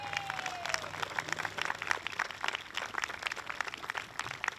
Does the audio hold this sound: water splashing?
no